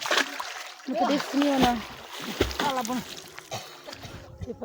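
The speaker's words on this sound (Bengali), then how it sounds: "এখানে জলের স্রোত প্রচুর" A strong tidal water current at a shoreline where someone is gathering snails, splashing and sloshing close by in uneven bursts while a person talks and calls out over it.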